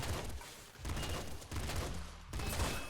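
Bursts of rapid popping gunfire from the flame pop gun in a Nuclear Throne mod, several volleys in quick succession with brief gaps, loud and close.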